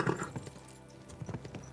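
A horse gallops in the video game Kingdom Come: Deliverance 2, its hooves thudding in a quick, uneven clip-clop rhythm that stays soft and fairly close.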